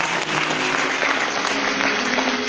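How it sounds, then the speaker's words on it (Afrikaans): A church congregation applauds at an Easter Friday service, steady dense clapping from many hands filling the whole stretch without pause, loud and close with no voices on top. "kom ons gee hulle aan die klap."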